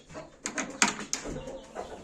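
A hen among farmyard poultry gives a few soft, scattered clucks and short calls, close by but fairly quiet.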